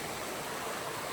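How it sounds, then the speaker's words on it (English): A small stream runs by along the Appalachian Trail, giving a steady, close rushing wash of water with no break and no talk. "I got this little stream right here that runs by"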